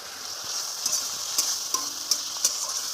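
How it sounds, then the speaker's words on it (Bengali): Ash gourd pieces fry in hot oil with chili, turmeric and salt, a soft steady sizzle broken by several sharp clicks of a utensil stirring against the pan. "সেটাকে তেল ছাড়া অবধি ভাজতে হবে ভালো করে, সুন্দর করে"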